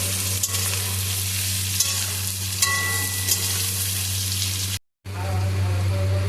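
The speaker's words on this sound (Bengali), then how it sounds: "তারপর আমি ওই তেলের মধ্যে পেঁয়াজগুলোকে দিয়ে দিচ্ছি পেঁয়াজগুলো দিয়ে নাড়াচাড়া করে নিচ্ছি" Onions sizzling and frying in hot oil while being stirred in a pan for mutton curry, a steady close crackle with scraping strokes, a brief dropout near the end, and a low steady hum underneath.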